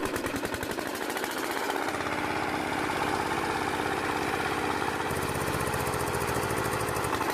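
A vintage four-stroke inline engine with glow plugs and fuel injection runs loud and close, a steady fast chugging drone that deepens slightly after a couple of seconds and shifts again later.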